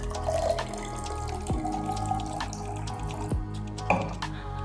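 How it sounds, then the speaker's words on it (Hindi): Water is poured into a container while preparing a sodium-in-water experiment, with trickling and a few distinct drips and plops close by. "तो सबसे पहले हमें पानी डालना है इसके अंदर"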